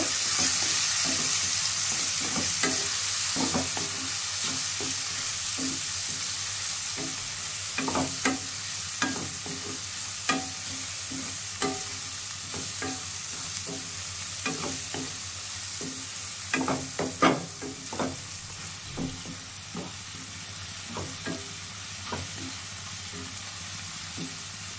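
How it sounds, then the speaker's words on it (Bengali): Spices with turmeric and red chili powder frying for an egg curry, a steady close sizzle with regular spatula scrapes and taps against the pan throughout. "অল্প একটু লাল লঙ্কার গুঁড়ো ঝালের জন্য। দিয়ে মশলাটা ভালো করে ভাজা ভাজা করব।"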